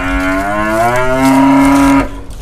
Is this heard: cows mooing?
yes